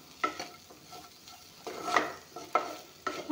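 Makhana (fox nuts) frying and being stirred in a pan, heard as a series of close scraping, rattling stir strokes at irregular intervals over a faint background sizzle, with no talking.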